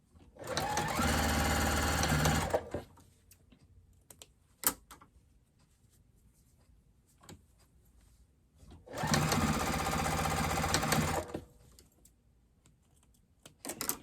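A sewing machine stitches fabric for a microwaveable bowl cozy in two sustained whirring runs of rapid needle clatter, separated by a quiet pause with small clicks and handling noises.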